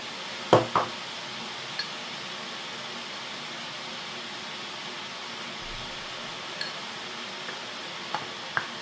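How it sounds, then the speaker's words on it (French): Ingredients seasoned with salt and pepper being stirred in a cooking pan: a soft, steady sizzle with a few sharp utensil knocks and scrapes, the loudest near the start and a scattering more toward the end. "On remue tout ça"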